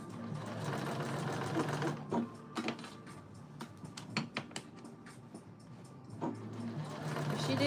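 A sewing machine understitches thick fabric in short, rapid bursts of mechanical chatter, stopping and starting several times at close range and fairly quietly, with brief pauses between runs.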